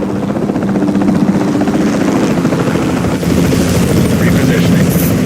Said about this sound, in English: take a capture team helicopter. You can trank it from the air.